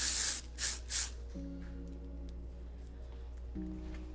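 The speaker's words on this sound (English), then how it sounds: "So a little bit more texture spray in there." Texture spray misted onto styled hair in three short hissing bursts at the start, close up, followed by quiet room tone with a steady low hum.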